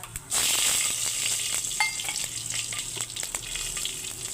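Panch phoron and slit green chilies hit hot oil in a kadai while an okra dish is cooked, a loud steady sizzle rising suddenly then crackling continuously up close, with no talking.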